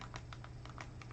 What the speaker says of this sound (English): we're going to type in a shortcut